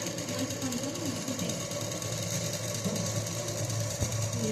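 A sewing machine runs steadily throughout, stitching fabric with a continuous fast mechanical whir at close range, while a person talks over it.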